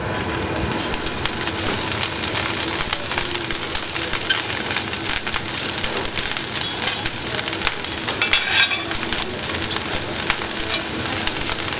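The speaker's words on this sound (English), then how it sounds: "So what I've done is just turn it around in a little bit of rapeseed oil. Then we're going to spread it out on the stove directly." Food sizzles and fries steadily in a little rapeseed oil spread directly on a hot stove in a Stockholm restaurant kitchen, a dense, continuous crackle with occasional stirring, close and loud throughout.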